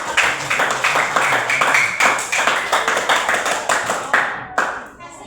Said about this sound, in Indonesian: mari kita beri aplaus